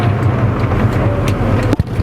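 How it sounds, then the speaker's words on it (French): A VW Golf 1 GLI engine over-revving steadily, with a low rumbling drone and a faint repetitive knocking from the gearbox beneath it, up close and without talk. "je suis en sur-régime, mais tu entends que la boîte elle tape"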